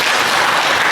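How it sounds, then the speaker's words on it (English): An audience at a book launch bursts into loud, dense applause, with many hands clapping close together in an unbroken wash that lasts under a second. "Big round of applause"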